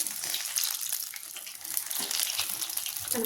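Green chilies frying in hot oil, a steady close sizzle and crackle with continuous bright hiss and small pops throughout.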